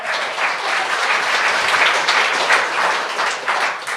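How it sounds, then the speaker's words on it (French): A comedy-night audience gives a big round of applause for the evening's comedians, a dense, steady wash of clapping that stays loud and even for the full four seconds, with no talking over it. "Grosse main d'applaudissements là, pour tous les humoristes de la soirée"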